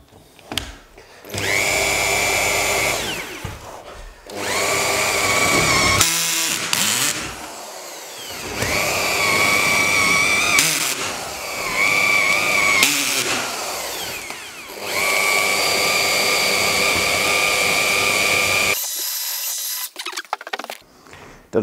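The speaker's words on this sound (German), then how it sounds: "Und wir bohren erstmal den Durchbruch jetzt." A power drill bores a hole through a wall on a house construction site in Bavaria, with several loud whining bursts of drilling separated by short pauses, close to the microphone.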